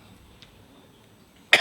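A single short, sharp cough bursts out at the very end after a near-silent stretch, during a press briefing on a public health emergency in the Philippines.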